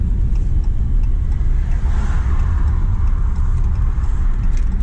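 A broken-down car pulling into a repair shop to park, a steady loud low engine and road rumble that holds evenly throughout, with no talk.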